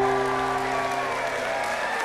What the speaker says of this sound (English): give a massive round of applause to Miss Bungie